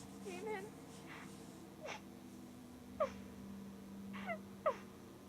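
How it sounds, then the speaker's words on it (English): A person cries on the phone in the indie horror game Stage Fright, quiet broken sobs and sharp catching gasps scattered across several seconds over a low steady hum. "it's like somebody crying on the phone."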